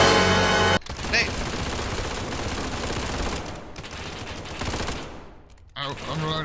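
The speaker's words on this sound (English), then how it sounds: "I loaded a whole mag into a dude's head." Rapid automatic gunfire from a weapon in the SCP 5K video game, a loud dense burst running almost continuously through the clip, with a short break near the end before firing resumes.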